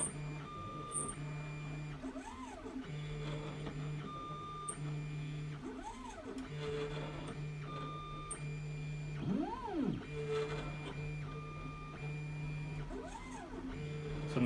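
An Anet A8 3D printer runs auto bed leveling with an inductive sensor, its stepper motors whining in rising and falling sweeps over a steady hum, with faint short beeps repeating throughout.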